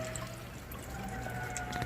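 Coolant draining from the radiator of a 2012 Ford Transit Connect XLT: a steady, soft trickling pour of liquid that continues evenly, with no talking.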